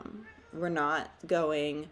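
A cat meows in two drawn-out, rising and falling calls, with a person talking through and around them.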